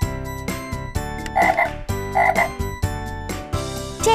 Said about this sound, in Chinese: 对了，是小青蛙的叫声。